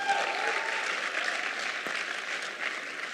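Sustained applause from a crowd at a club's grand opening event rings out in a dense, even clatter of many hands, moderately loud and continuous throughout.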